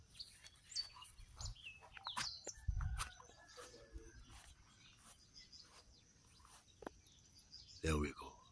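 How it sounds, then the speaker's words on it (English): Several tiny backyard birds chirp and tweet in short, scattered calls, a few near and some faint, with a louder burst near the end and quiet talk in between. "There are actually several birds, tiny guys."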